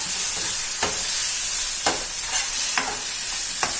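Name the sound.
stirring and mixing biryani paste in a pan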